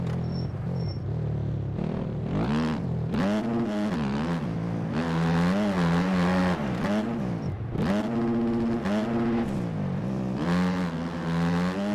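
A motocross bike in the racing game MX Bikes, its engine revving hard and rising and falling in pitch through repeated gear changes and throttle blips, loud, close and steady, with no talk.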